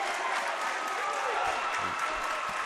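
Loud, steady crowd noise fills a high school boys basketball game gym between South and North, a continuous roar of cheering and voices with faint thumps underneath.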